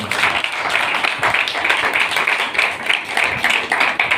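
Church congregation clapping loudly, a steady, enthusiastic round of many hands close by, sustained without pause for several seconds.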